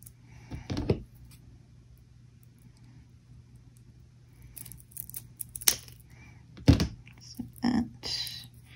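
Several separate crisp scissor snips cutting paper for a eucalyptus craft, spaced irregularly across quiet room tone with soft handling noises between cuts.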